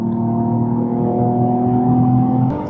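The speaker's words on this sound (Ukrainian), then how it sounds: "Ще й вихлоп цей ззаді кайф." A car driven fast, its exhaust giving a loud, steady engine drone with a sustained tone that shifts slightly near the end, heard alone without talk.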